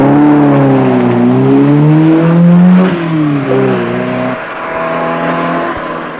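Rally car engine and exhaust at the 1974 Lebanon-Syria rally, loud and close: a strong droning note rises as the car revs and accelerates, then drops and shifts as it pulls past, with no voices.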